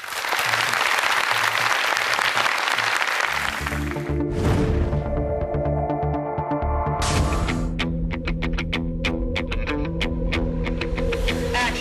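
Loud, sustained applause from a large crowd fills the first few seconds, then gives way to booming, echoing music with a steady throbbing beat.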